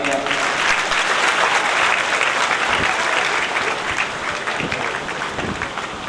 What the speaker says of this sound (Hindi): जोरदार तालियां भैया।